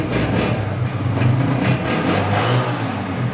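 A used Honda or Yamaha 125cc motorcycle engine revs at a dealer's, a steady throaty idle with surging rises in pitch, close and loud, no voices.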